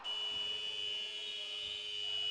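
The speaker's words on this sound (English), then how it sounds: "Federici leaks out, finds Blaine in the post to beat the buzzer." Basketball shot clock buzzer in an NBL1 game between Leicester Warriors and Team Newcastle University, sounding the end of the first quarter: a steady, piercing electronic tone held throughout over faint arena noise.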